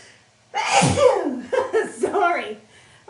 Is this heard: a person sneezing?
yes